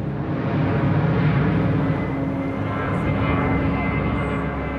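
An Embraer KC-390 military transport aircraft's engines roar steadily overhead, a broad continuous drone with no talking.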